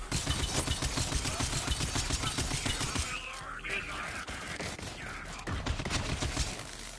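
Video game weapon firing out knives: rapid, loud bursts of clattering shots in quick succession, breaking off midway for a quieter stretch, then resuming.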